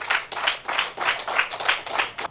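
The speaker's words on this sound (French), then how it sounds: "Je vous prie de les applaudir." An audience claps together in slow, rhythmic unison, with about seven evenly spaced bursts of clapping, fairly close and moderately loud.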